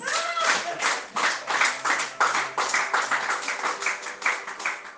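A church congregation claps in a steady, quick rhythm during a worship song, with sustained singing and music underneath throughout.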